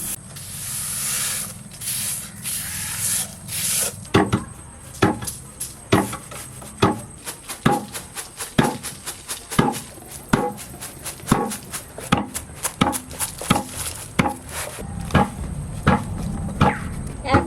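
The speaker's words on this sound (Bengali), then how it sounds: "এইটুকু আবার পাড়াতে হবে ডিকিতে" Rice pounded into flour in a wooden dheki, the village foot-operated husking pedal, making a steady series of dull, regularly spaced thuds, close by, over a constant hiss and background noise.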